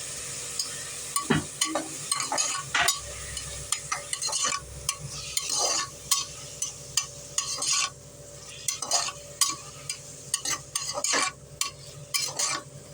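Tomatoes and garlic sautéing in a pan while being stirred, a steady close sizzle broken by repeated scraping and clinking strokes of a spoon against the pan, with no talking.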